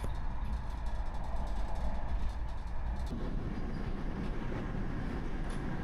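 Steady low rumble of a Lisbon-to-Badajoz train in motion heard from inside a carriage, with continuous rattling wheel noise that grows heavier partway through.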